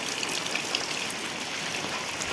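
Heavy rain pours down in the Konkan in a loud, continuous wash, with drops pattering on surfaces nearby.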